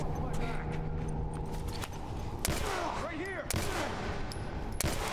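Gunfire in The Last of Us: Left Behind, with sharp shots cracking at irregular intervals among game noise and a voice speaking over the action.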